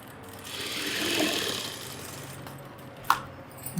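A sewing machine stitches a chudithar in a short mechanical whirring run that swells and fades, followed by a couple of sharp clicks.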